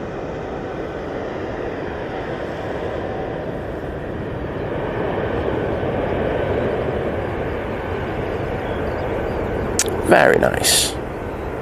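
A large Aer Lingus airliner at Manchester Airport produces a steady, broad jet roar that swells gradually and holds throughout, with a brief sharper burst near the end and a voice speaking briefly over it.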